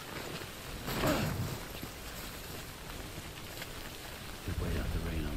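Steady rain falls in the video game Death Stranding, a continuous dense wash of droplets with a couple of low rumbling swells, at moderate loudness with no talking.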